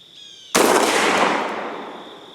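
One loud, close blast from a Gforce GF25 shotgun fitted with a 20-round drum, ringing out in a long, slowly fading tail of noise outdoors.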